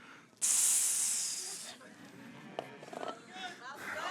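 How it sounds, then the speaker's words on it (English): Onions and peppers dropped into hot oil burst into a loud, bright sizzle that hisses strongly for over a second, then settles into a quieter crackle with faint voices behind it. "In the same oil, I'm going to add the onions and peppers."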